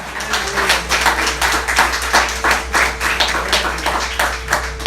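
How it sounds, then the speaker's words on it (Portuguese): A church congregation claps during a worship service, rhythmic rapid claps repeating steadily with a low background hum and no talk. "Aplauda o Senhor com o seu melhor."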